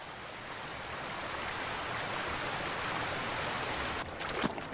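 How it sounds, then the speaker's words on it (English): Heavy autumn rain in the Great Bear Rainforest pours steadily in a dense, hissing wash, loud and continuous with a few sharper splashes near the end. "now the autumn rains have really picked up"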